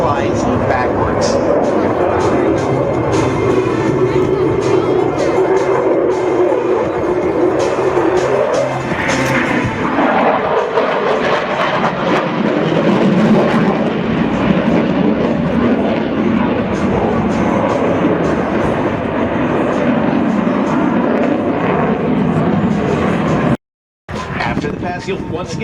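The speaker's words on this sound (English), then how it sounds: "Watch now as the Raptor flies in from the left, pulls straight to the vertical and brings the throttles to near idle" An F-22 Raptor fighter jet at the Avalon Airshow 2017 roars continuously, its engine rumble shifting in pitch as it passes and pulls up, with an announcer talking over a loudspeaker throughout.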